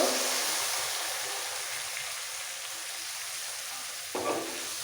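A ladle of boiled dal goes into a hot pan for street-style ghugni, giving a continuous loud sizzle and hiss that eases slightly, then a short clatter near the end.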